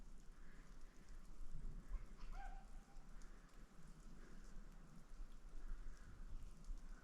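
Steady summer downpour falling outdoors on a soaked yard, a soft continuous hiss of rain with faint distant calls of toads beneath it, no voices.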